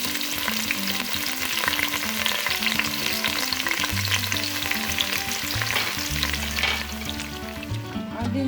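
Onions and scent leaf fry in a pan for a cocoyam achicha dish, sizzling steadily and loudly with stirring scrapes throughout.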